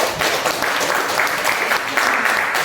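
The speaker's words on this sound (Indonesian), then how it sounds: "beri tepuk tangan untuk Mbak Anidia." An audience at a school guidance session applauds steadily for a participant, with a moderately loud, even wash of many hands clapping and no speech over it.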